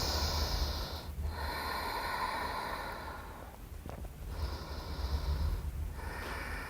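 Slow, deep breathing during a gentle vinyasa yoga session, with long audible inhales and exhales through the nose, close to the mic, and a quiet tonal hum underneath and no speech.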